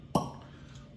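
A cork pops out of a bottle of Barolo wine, one short soft close plop followed by quiet.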